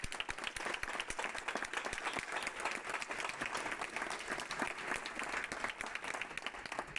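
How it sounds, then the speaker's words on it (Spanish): An audience at an equality-award ceremony for family-friendly companies applauds steadily, a dense even patter of many hands clapping with no voices over it. "Este aplauso va por vosotras."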